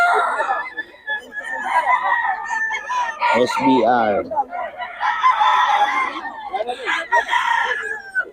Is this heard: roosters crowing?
yes